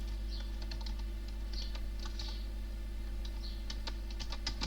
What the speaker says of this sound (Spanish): cuesta escribir porque tengo la tablet atravesada en el teclado.